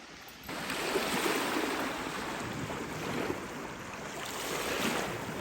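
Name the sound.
waves on the shore of Lake Superior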